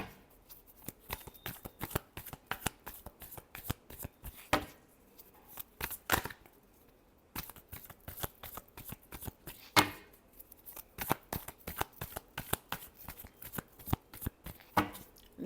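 Tarot cards being shuffled by hand, repeated close riffling bursts and soft slaps in an uneven rhythm, with brief pauses between rounds, no talk.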